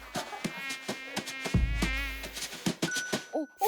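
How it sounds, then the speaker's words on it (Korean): A fly buzzing close by in a high, wavering drone, broken by sharp thuds and clatter, with a brief voice near the end. "파리 새끼가 이씨."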